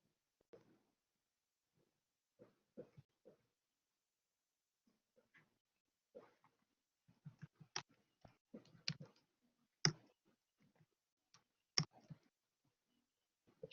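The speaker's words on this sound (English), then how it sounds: "There are several people typing." Several people type on computer keyboards during an online math class, scattered bursts of soft clicking and tapping against near silence, growing denser toward the middle.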